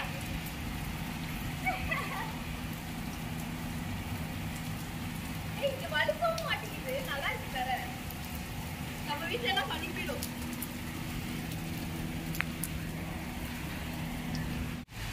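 Steady rain falls outdoors as a constant soft hiss across the whole stretch, while voices talk intermittently in the background.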